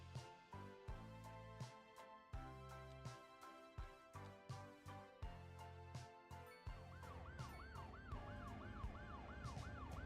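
Ambulance siren in the city-building game Cities Skylines 2, a wailing rising-and-falling siren over rhythmic pulsing game music, loud and continuous toward the end.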